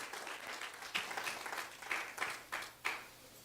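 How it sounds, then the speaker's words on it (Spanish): A church congregation claps in a loose, fairly faint round of applause with several sharper bursts of clapping standing out, tapering toward the end. "Dale ese aplauso al Rey de Reyes y Señor de Señores."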